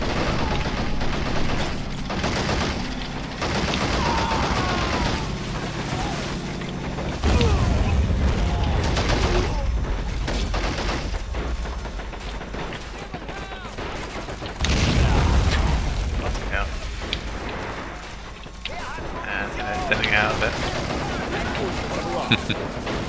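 Heavy gun fire in Men of War: Assault Squad 2 during a Hurtgen Forest multiplayer battle, deep booming blasts recurring every several seconds over continuous scattered gunfire and battle noise, with voices talking throughout.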